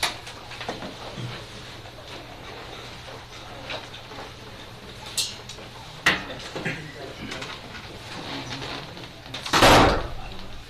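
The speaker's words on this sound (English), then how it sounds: "Man, that door slams on." A door slams in a county fiscal court meeting room, with a sharp loud bang near the end after a couple of smaller knocks and thuds, over low room murmur and faint speech.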